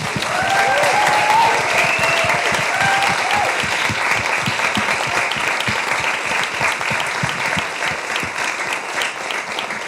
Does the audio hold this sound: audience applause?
yes